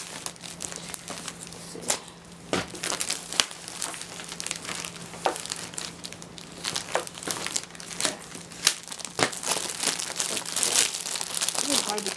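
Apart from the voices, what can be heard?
peeling grip tape off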